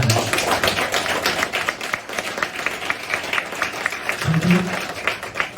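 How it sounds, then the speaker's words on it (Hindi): Enthusiastic audience applause at a network marketing seminar, a crowd clapping hard and steadily throughout with a few low thumps. "एक बार जोरदार तालियां हो जाए।"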